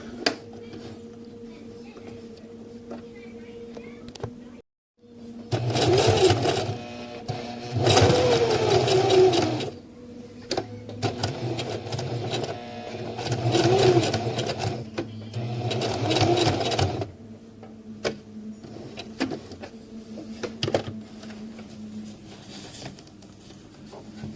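Sewing machine stitching a PALS/MOLLE webbing accessory pouch, several loud rapid whirring bursts of a few seconds each, separated by short pauses, close by and alone.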